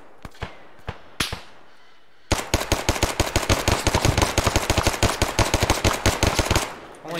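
Gunfire in the ARMA military video game: a few scattered shots, then a loud, sustained burst of rapid automatic fire rattling for about four seconds before stopping.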